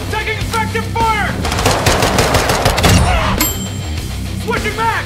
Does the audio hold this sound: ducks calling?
no